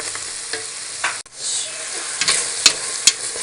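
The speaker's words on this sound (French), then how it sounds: "nous allons ajouter les morceaux de foie, enfin les petits morceaux de foie à la chair à saucisse" Small pieces of chicken liver stirred into sausage meat in a hot pan, giving a close, continuous sizzle with a few scraping stir strokes and sharp clicks of the utensil.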